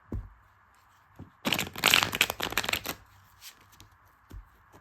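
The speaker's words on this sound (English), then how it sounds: "I'm gonna shuffle it" A deck of tarot-style cards is riffle-shuffled up close, a dense burst of crisp flutter and slaps lasting about a second and a half, framed by softer single card taps before and after, with a faint steady hum underneath.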